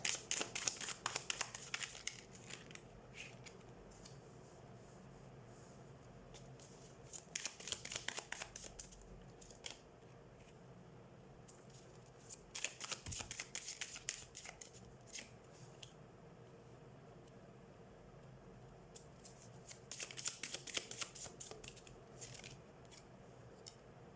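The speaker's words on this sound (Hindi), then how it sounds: "मैं और भी सारे कार्ड्स निकाल लेती हूँ" Tarot cards being drawn from a deck, soft intermittent slides and flicks of card stock in a few short bursts, close and quiet, separated by near-silent gaps.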